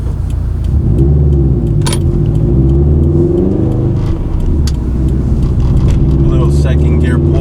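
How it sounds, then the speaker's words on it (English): Subaru STI in sport sharp mode pulling hard in second gear, a loud, rising engine drone that climbs steadily in pitch, with a brief dip and a few faint clicks over the steady roar. "Second gear pull for you guys."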